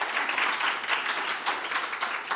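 A conference audience at a public-sector governance and internal audit event gives dense, even applause at moderate volume, a continuous patter of many hands with no talking over it.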